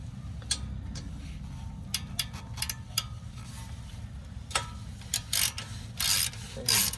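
Ratcheting tool clicks while removing the single bolt holding the ABS sensor on a 2018 Subaru Outback front knuckle, short bursts of sharp metallic ticks, close and fairly quiet over a low steady hum.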